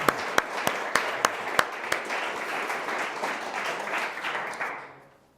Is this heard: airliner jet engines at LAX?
no